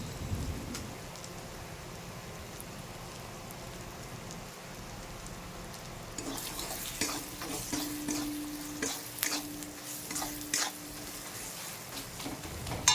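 Spice paste fries in a pan with a little water for fish curry, a steady sizzle and crackle that grows louder midway as a spoon scrapes and stirs in irregular strokes.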